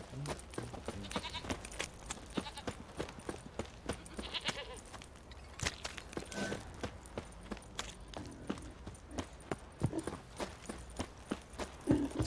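Horses' hooves clip-clop in Witcher 3, a steady run of hoofbeats that is fairly close and keeps going for the whole stretch, with soft farmyard animal noises in the background and no voices.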